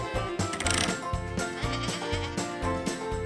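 Goats on a farm bleating loudly and close, several quavering calls in a row set over a bouncy children's music backing.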